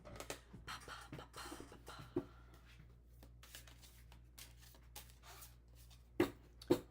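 A deck of Herbcrafter's tarot cards is shuffled by hand, giving soft, quiet riffling and scraping rustles in short bursts with a few sharper snaps near the end.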